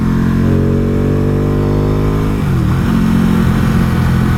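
A starter motorcycle accelerating while overtaking on a road: a loud, steady engine drone with rising pitch, a brief dip around the gear change, then pulling hard again at close range with no talk.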